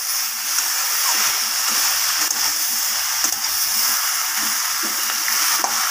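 Hilsa fish heads frying in a wok while a spatula presses and breaks them, a continuous close sizzle with occasional scraping taps, no voices.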